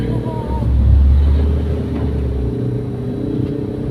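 A motorcycle engine runs at close range, its low rumble swelling briefly early on and then settling to a steady idle with faint talk in the background.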